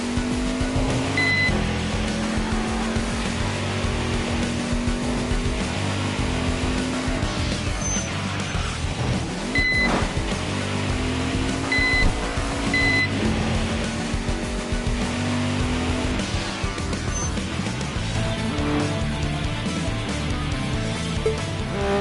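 A V-spec GTR engine revs in the Tokyo Xtreme Racer racing game, a loud continuous drone that rises and falls with gear changes, with brief tire squeals, and no voices over it.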